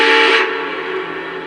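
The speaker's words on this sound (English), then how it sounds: "The whistle confirms that it's taken the command" A model train locomotive sounds its whistle in confirmation of a remote command, a loud steady steam-style tone that drops off after a moment into a fainter lingering hiss.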